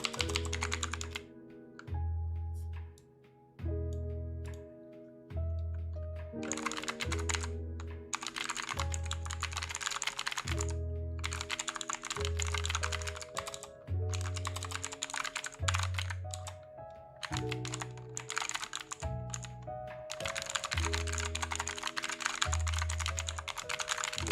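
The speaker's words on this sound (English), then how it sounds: "My keys are loud." Rapid clicking keystrokes on a loud computer keyboard come in bursts with short pauses, close and crisp, under a repeating low musical backing with no talking.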